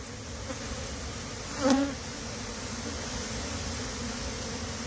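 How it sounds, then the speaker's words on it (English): A buzzing honey bee swells briefly as it passes close by a hive, over a steady, low hum of background noise. "I'm just watching the bees disperse for a second"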